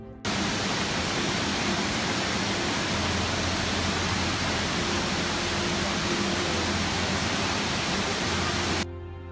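A waterfall in Bali gives a steady, dense roar of falling water that stays loud and unbroken from start to finish, with no voices over it.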